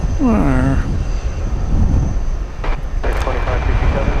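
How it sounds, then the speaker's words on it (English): An American Airlines Airbus A321 jet airliner at Dallas-Fort Worth airport on a windy night gives off a loud steady rushing roar, while a voice speaks briefly near the start. "This ought to be American Flight 2567 to Portland, Oregon in Airbus A321"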